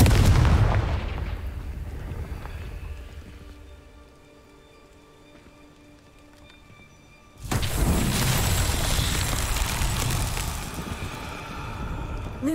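Confringo blasting spell detonations in Hogwarts Legacy: a loud booming burst at the start fades into a long quiet stretch, then another heavy crackling explosion hits and rumbles on for several seconds.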